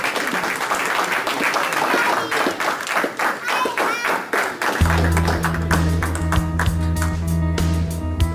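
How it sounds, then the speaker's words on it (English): An audience applauds a Father's Day speaker, Andrew Guy. The clapping is loud and dense and continues throughout, with a host's voice over it and a steady low musical tone entering partway through. "Mr. Andrew Guy, give him a round of applause"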